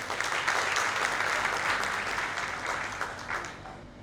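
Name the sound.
audience applause at medical seminar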